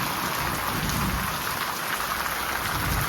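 Heavy rain pours in a loud, unbroken hiss and patter on surfaces during a festival-night storm, with faint thunder underneath and no one talking.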